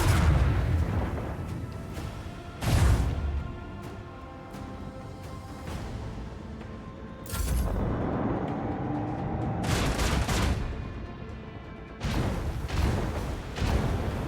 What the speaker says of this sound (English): Fire the dorsal lance.